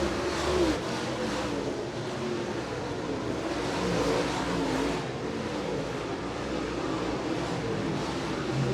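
Late model race cars circle Merritt Speedway, their engines a continuous broad roar that swells and fades as the pack passes, heard from a distance with no voices over it.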